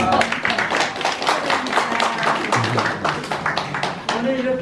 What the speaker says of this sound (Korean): 제 남편한테도 박수 한번 쳐주시죠